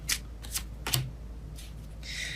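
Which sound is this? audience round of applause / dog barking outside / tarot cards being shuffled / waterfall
tarot cards being shuffled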